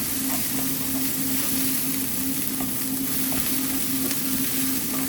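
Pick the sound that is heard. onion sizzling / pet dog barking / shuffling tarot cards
onion sizzling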